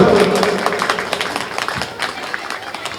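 A crowd at an Indian election rally claps loudly in dense, rapid bursts to welcome a speaker, starting strong and gradually thinning out over a few seconds.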